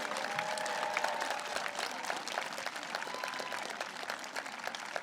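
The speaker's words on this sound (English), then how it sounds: "big round of applause for all of our 8th grade graduates" An audience at a middle school 8th grade graduation ceremony applauds the graduates, a sustained wash of many hands clapping at a steady level, with a faint tone drifting through underneath.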